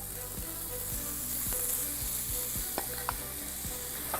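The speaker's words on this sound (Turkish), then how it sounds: "Bu cız sesini duymanız lazım." Meat sizzles loudly in an oil-free Teflon pan, a dense, steady frying hiss with a few soft spatula taps and clicks over it.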